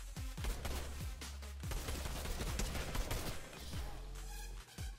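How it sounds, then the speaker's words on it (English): Fortnite gunfire rattles in quick bursts, sharp cracks and rapid automatic fire overlapping with distant shots, layered over game ambience at moderate loudness. "Where are we getting shot at?"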